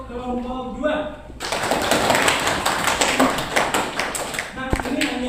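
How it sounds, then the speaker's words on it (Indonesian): A classroom of students bursts into sustained applause for the second group during an Islamic education teaching practice session, dense close clapping that begins abruptly after a brief spoken line and continues under occasional voices. "Beri tepuk tangan untuk kelompok 2."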